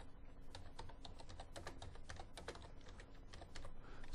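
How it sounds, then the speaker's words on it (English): Quick, close typing of a search on a computer keyboard, a rapid run of light key clicks over a few seconds with no talk. "I did search, so her name should pop up here if I type it in."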